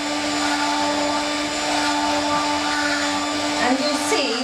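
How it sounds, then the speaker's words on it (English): An electric whisk beats a homemade natural skin cream mixture in a bowl, a steady close motor whine with a constant pitch running throughout, shifting slightly near the end as the beaters move through the cream. "Put that in there and whisk it up nicely."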